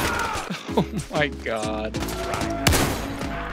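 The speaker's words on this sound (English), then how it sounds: "The shotgun especially feels like it's violating the Geneva Convention every time you shoot it." A pump-action shotgun fires in the VR shooter Zero Caliber: several loud, punchy blasts in quick succession with rattling impacts, while a person reacts aloud between shots.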